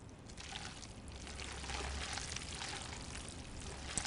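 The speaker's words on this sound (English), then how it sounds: "I want to pour some on once it's in the bowl." Lemony pasta sauce poured from a pan onto pasta in a bowl, a soft steady wet trickle and dribble lasting a few seconds, close and quiet with no talking.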